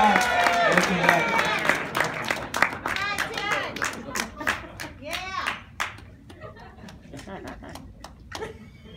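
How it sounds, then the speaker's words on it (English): Audience applause greets a debut performance, with clapping layered under excited speech and cheering voices at first, then thinning to scattered claps and a few shouts as it fades. "Please put your hands together for the one, the only, the amazing Derrick, everybody. Big round of applause."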